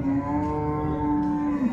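A Holstein Friesian cow at a dairy farm lets out one long, steady, droning moo, loud and close, lasting nearly two seconds.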